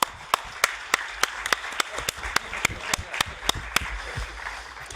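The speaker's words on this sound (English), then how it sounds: "Please, a warm round of applause to our panelists." A conference audience applauds a panel at an EU waste legislation event, steady clapping under a few sharp, loud claps close by, lasting several seconds.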